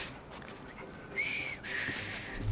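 A person whistles in Assassin's Creed Syndicate, two short, thin, steady tones one after another, the second slightly wavering, heard over a quiet room backdrop.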